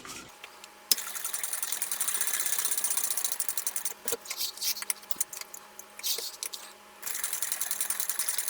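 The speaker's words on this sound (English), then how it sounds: "now I want to top stitch all the way around" A sewing machine top stitches around the edge of a fabric bag, running in a steady mechanical whir, pausing briefly, then resuming in short bursts before a final sustained run. The sound is close and clear, with no talking.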